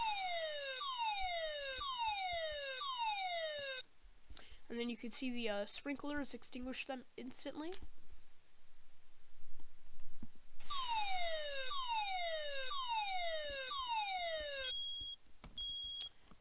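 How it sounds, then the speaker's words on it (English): A fire alarm system in a video game sounds a loud, repeating falling siren sweep, interrupted midway by bright electronic chiming tones before the siren returns, with a short beep near the end and someone talking over it. "Then you could hear the bell and the siren."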